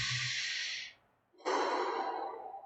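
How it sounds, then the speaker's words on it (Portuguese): Normal breathing through the lungs, demonstrated: one long audible breath, a short pause, then a second long breath, close and fairly loud, with no talk. "respiração normal aqui, ó, que está usando nosso pulmão."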